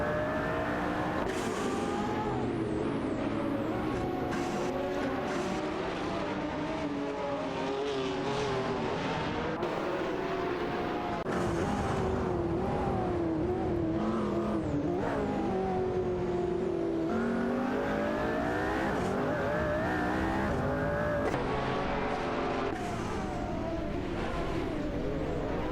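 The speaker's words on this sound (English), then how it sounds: "Let's rev up those engines and enjoy the race together." Race car engines roar and rev without pause in a racing video game, with dense overlapping high-pitched whines, gear changes and pitch sweeps, plus occasional tire squeal, loud and continuous throughout.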